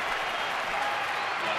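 A baseball stadium crowd cheers and applauds with two outs during a Dodgers at Arizona game, a dense, steady roar heard from a distance with no break.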